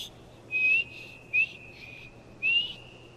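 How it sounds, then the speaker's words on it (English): Three short whistled notes in Skyrim, each a clear high tone with a slight upward bend, spaced unevenly over a few seconds with a faint steady hum underneath and no talking. "Whistle."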